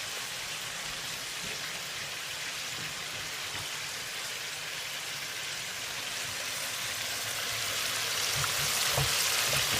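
Food roasting in a pan while rice waits to be cooked: a steady, dense sizzle and crackle like light rain, continuous throughout and swelling slightly louder near the end, with no talking.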